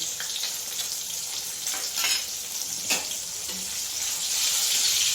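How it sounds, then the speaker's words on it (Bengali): Pointed gourd (potol) seasoned with salt and turmeric fries in hot oil, a steady close sizzle with occasional sharper crackles and stirring scrapes and no talking. "পটলটা ভাজা হয়ে গেছে"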